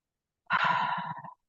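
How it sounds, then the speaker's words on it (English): One deep, audible breath with a sighing exhale, close and clear, lasting under a second against otherwise silent surroundings during a calming relaxation exercise. "Take a few deep breaths in through your nose."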